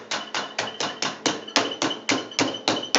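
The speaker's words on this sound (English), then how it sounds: "Just get some cling film and a little meat hammer," A series of sharp, regular metallic blows from a small meat hammer pounding a leg of lamb through cling film, about four strikes per second, close and loud, with no talking.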